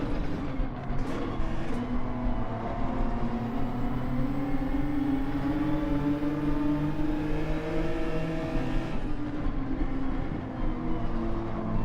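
Gr.4 race car engines droning continuously in Gran Turismo 7 daily race, a steady layered roar with shifting pitch as several cars run close together, no voices.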